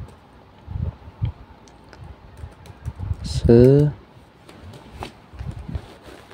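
Keys on a computer keyboard click in a few scattered taps during a copy-and-paste edit, close and fairly soft, with a voice speaking briefly in the middle.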